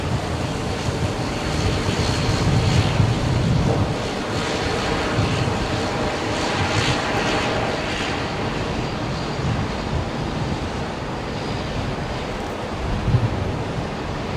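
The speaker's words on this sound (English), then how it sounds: "the Rex fella's heading your way, Matt, with a Saab 340" A Saab 340 turboprop near Brisbane Airport makes a steady, dense rumble that holds at constant loudness for many seconds, blended with wind-like noise and no speech.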